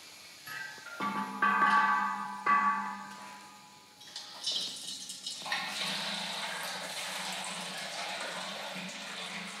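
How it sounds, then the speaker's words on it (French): Water running through a water-powered sound art instrument fed from a spring and cycling like an hourglass: tonal, chime-like ringing at first, then a steady broadband rush of flowing, splashing water that carries on to the end. "l'eau retourne dans le point bas du château d'eau"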